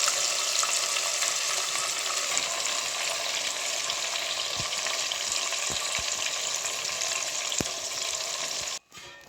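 Marinated chicken sizzling in hot oil for handi chicken on a gas stove, a loud, dense, continuous frying hiss with a few faint clinks, cutting off abruptly near the end.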